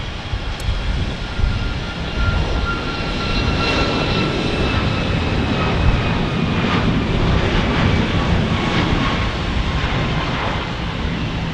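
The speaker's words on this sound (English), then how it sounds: "Alaska Airlines now taking off." Alaska Airlines airliner taking off at Phoenix Sky Harbor Airport, a steady loud jet engine roar that holds for the whole stretch with no voices over it.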